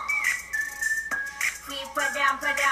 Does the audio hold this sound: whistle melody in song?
yes